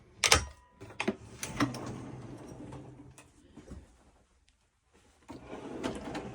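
Latched storage drawers in a 2024 Mercedes Sprinter AWD camper van being opened and shut, giving several sharp close knocks and slides. A quieter pause follows before more rattling handling.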